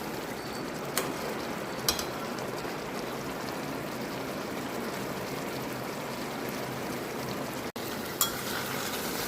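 Pointed gourd (potol) pieces fry in oil, giving a steady, continuous hiss and bubbling sizzle at moderate loudness, with a few faint clinks scattered through it.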